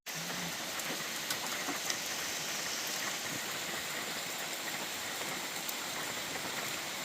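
Steady rain at a camping site falls on surfaces in a constant, fairly loud hiss with scattered drips and patters, continuous and close, with no voices.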